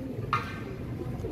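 Imam Deen pigeons cooing, with one short, fairly close throaty coo rising out of a quiet, low background rumble.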